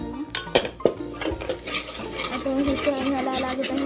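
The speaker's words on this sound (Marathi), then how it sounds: "खोबर टाकून आपल्याला चांगलं हलून" A spoon scrapes and clinks against a pan as grated coconut is stirred into a mutton curry, with irregular metallic knocks followed by steady stirring and a faint sizzle, close and fairly loud.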